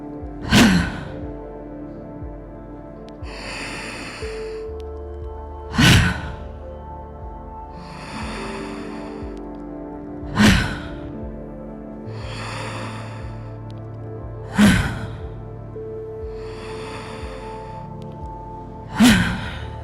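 A group of people at a conference draws in deep breaths through the nose together, a series of slow, airy inhalations spaced several seconds apart, each followed by a quieter exhale, with no talking.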